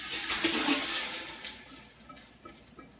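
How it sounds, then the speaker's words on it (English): Canned plum tomatoes from a large 6.5-pound can slosh and splatter into a cooking pot in one continuous wet pour, loud at first and then tapering off into small drips, with no talking. "So in the pot with the tomatoes."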